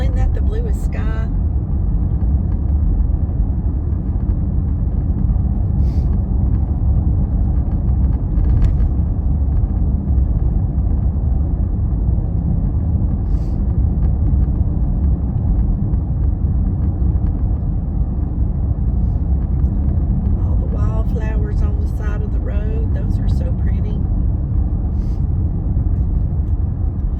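Steady, close low-frequency road rumble from inside a car cruising country back roads in the early morning, droning without break for the whole stretch, with a brief spoken voice rising over it near the end.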